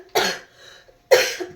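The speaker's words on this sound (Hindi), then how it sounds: "पूरा एकदम खांसते ही जा रहे हैं।" Two separate coughing bursts from a person who has been coughing constantly, loud and close, with a short quiet gap between them and no talking.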